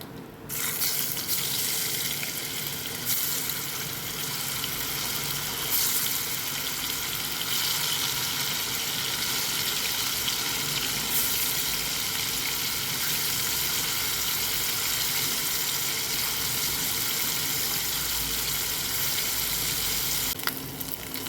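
Soli fish pieces for pickle fry in hot oil with a steady, even sizzle and bubbling that runs without a break from start to finish, close and moderately loud.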